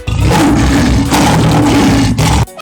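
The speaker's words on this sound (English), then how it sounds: "Lion." A lion roars loudly and close, one sustained, rumbling call that carries for over two seconds, set among other wild animal sounds on a jungle safari.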